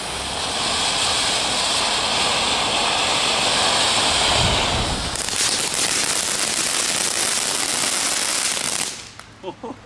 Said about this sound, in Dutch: Mooi categorie 1 vuurwerk.